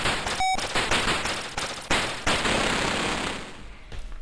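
Rapid gunfire crackles through the Atari ST arcade shooter Operation Wolf, repeated bursts of shots firing at vehicles in a steady, dense rattle that thins toward the end.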